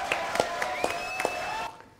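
A small audience at an album presentation gives a brief, scattered applause of distinct claps at a moderate distance, which fades out within two seconds.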